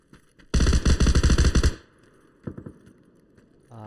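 Rapid burst of automatic machine gun fire in a video game, loud and close for about a second, followed by a few fainter scattered shots and low game noise.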